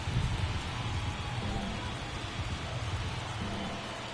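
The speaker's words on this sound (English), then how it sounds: "In the rain here in Los Angeles." Rain falling steadily during an MLB baseball video game set in Los Angeles, a continuous soft hiss of rainfall with no pauses.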